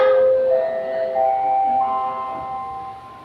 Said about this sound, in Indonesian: bel tanda pergantian jam pelajaran telah berbunyi